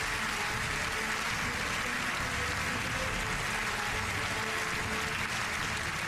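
Sustained applause from a large theatre audience at the Royal Variety Performance, greeting magician Colin Cloud as he takes the stage. It is a steady, dense wash of clapping that holds at an even level throughout, with no voices over it.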